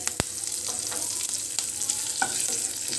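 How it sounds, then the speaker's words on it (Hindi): Cumin seeds and curry leaves sizzle and crackle steadily in hot oil with a little asafoetida, with sharp pops and spatters over a continuous frying hiss, close and fairly loud, with no voices. "सबसे पहले थोड़ी सी जीरा डालेंगे, थोड़ा सा करी पत्ता डालेंगे।"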